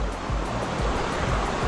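A river in an old Meiji-era waterway tunnel, which must be waded waist-deep, roars with a loud, steady rush of flowing water that fills the clip without pause.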